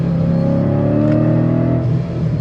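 A boosted Mustang GT running 10 PSI, with long tube headers and a clutch and flywheel upgrade, roaring loud and close as it accelerates hard under boost, one continuous surging engine note for a couple of seconds.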